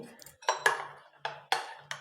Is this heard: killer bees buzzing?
no